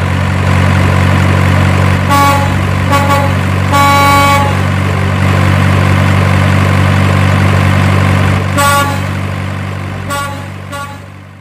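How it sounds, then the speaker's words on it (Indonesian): A colourful truck passing by with a steady, loud engine drone and several short horn toots spaced through the pass, the rumble easing slightly at the end. "itu ada truk warna-warni lagi tuh yang lewat"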